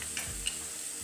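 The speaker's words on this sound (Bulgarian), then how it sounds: "И отново запържваме, докато поумекнат морковите и чушките." Carrots and peppers frying and being stirred in a pan, giving a steady close sizzle with a faint scrape of the spoon, and no voices.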